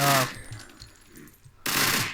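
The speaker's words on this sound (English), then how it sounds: "I mean, this is Bandit's MP7 we're talking" An MP7 submachine gun in the video game Unturned, with short bursts of loud automatic fire at the start and end separated by a quieter gap.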